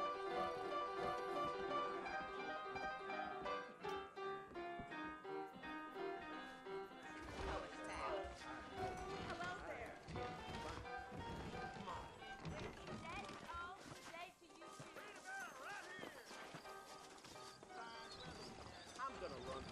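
Saddled horses in the Western video game Red Dead Redemption, clip-clopping and whinnying faintly beneath loud orchestral music.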